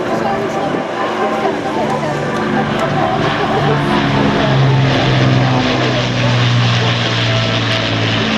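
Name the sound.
Avro Lancaster bomber propeller aircraft flying over airshow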